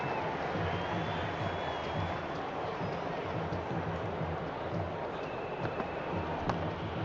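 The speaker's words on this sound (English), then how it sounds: "There's an almost tangible fervour throughout the crowd at the moment." A stadium crowd in the Cricket 26 video game keeps up a steady, dense roar and murmur of cheering throughout, with no distinct breaks or peaks.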